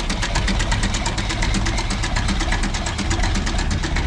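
A 1968 IMT 533 tractor fitted with a diaphragm pump idles slowly at around 150 to 200 RPM, a close, steady, rhythmic knocking chug that runs evenly throughout.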